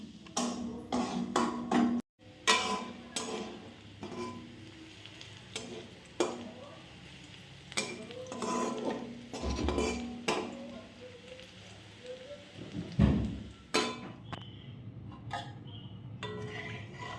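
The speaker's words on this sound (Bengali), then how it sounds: "এদিকে আমি পেঁয়াজ আর শুকনো লঙ্কা একটু রসুন দিয়ে তেলের মধ্যে একটু ভেজে নিচ্ছি।" Onion, dried chilli and garlic fry in oil in a pan, a soft steady sizzle broken by close scraping and clinking stirs at an uneven pace.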